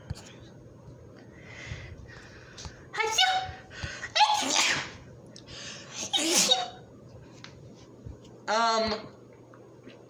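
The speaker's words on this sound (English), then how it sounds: "Did I just sneeze cutely?" A sneeze during casual chatter, a sharp burst around the middle, with other quick breathy vocal bursts and a whispery voice around it, close and fairly soft.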